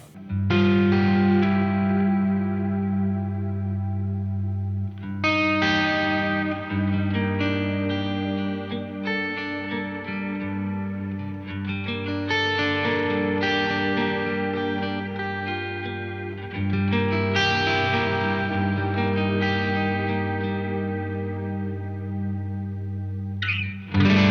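An electric guitar played through a Brig delay pedal rings out in sustained chords and notes with echoing repeats, chorus-like shimmer and some grit, loud and continuous for over twenty seconds with no talking.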